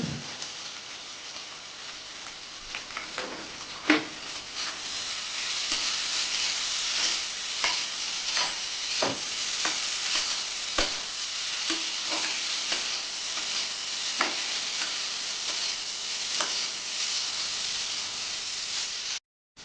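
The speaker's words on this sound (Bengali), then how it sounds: "আলু ভাজা ভাজা হয়ে গেছে" Continuous crackling sizzle of potatoes frying, with frequent scraping and tapping of a spatula stirring them in the pan.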